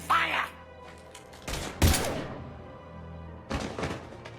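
Gunfire bursts in Mass Effect 3, a few loud, broad blasts in separate clusters with short gaps between them, and a voice briefly heard at the start.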